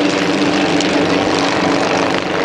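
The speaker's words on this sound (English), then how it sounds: "Bear in mind, these aeroplanes are 21-foot wingspan." Small propeller aeroplanes with a 21-foot wingspan and 36 horsepower fly in formation at the Shoreham Airshow 2014, a loud, steady engine drone filling the air without a break.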